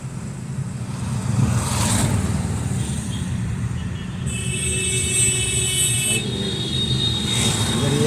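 A car rolls through street traffic during a driving lesson, with a steady engine and road rumble throughout and a couple of horn toots from surrounding vehicles.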